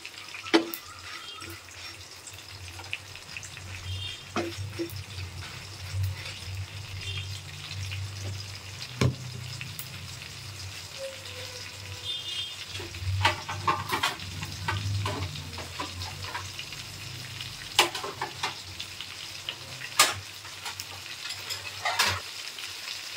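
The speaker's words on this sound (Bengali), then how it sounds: "চলুন এদিকে আমাদের চিংড়ি মাছটাও সুন্দর করে ফ্রাই হচ্ছে।" Prawns fry in a pan with a continuous close sizzle, broken by occasional stirring scrapes and clinks.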